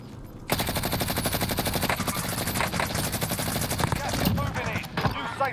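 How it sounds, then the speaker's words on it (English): Rapid enemy gunfire in the battle royale game Call of Duty Warzone, a dense automatic burst running steadily for several seconds, loud and close, with a voice speaking briefly over it. "Oh, he's shooting at me."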